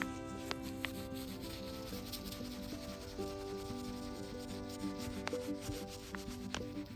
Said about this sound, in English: little piece of steel wool. Dip it in the oil and just gently burnish that.